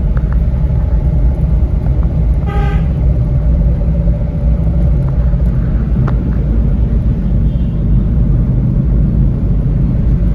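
A car engine hums in a steady, loud drone from inside the cabin as a new student drives during a lesson, a constant low rumble with a brief tonal chirp partway through.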